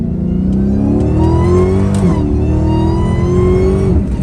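An 800-horsepower Dodge Challenger Hellcat Redeye revs up close and loud, its engine note climbing, dipping sharply near the midpoint and rising again in a sustained roar with no voices present.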